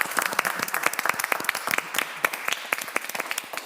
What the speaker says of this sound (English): Please give them and yourselves a warm round of applause this evening.